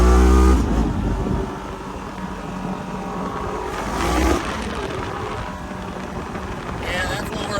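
A Polaris RZR XP1000 side-by-side fitted with a GGB exhaust runs with a steady, fairly loud engine drone that swells briefly near the middle, while people talk over it.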